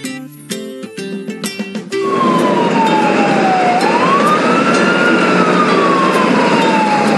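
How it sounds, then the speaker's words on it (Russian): A cartoon ambulance siren rises and falls in a long, loud, close wail after a short burst of music, sounding alone without any talk. "Скорая помощь к больному примчится, быстро доставит больного в больницу."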